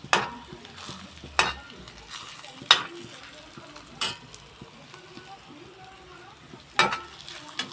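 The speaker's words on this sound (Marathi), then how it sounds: "त्यानंतर हे तेलात फ्राय करून घेऊ आपण लवकर चला" Masala and onion frying in oil in a pan, giving a low steady sizzle punctuated by a few sharp spatula scrapes and clinks against the pan, close by.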